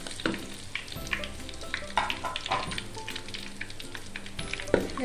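Curry leaves, cinnamon, cloves and cumin frying in hot oil for a lauki chicken curry, a steady close sizzle with occasional stirring clicks and pops, no voices.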